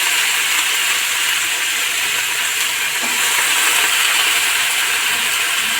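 Thinly sliced cauliflower stalks hit a hot pan and sizzle in a loud, steady hiss that holds evenly from start to finish, with no voices.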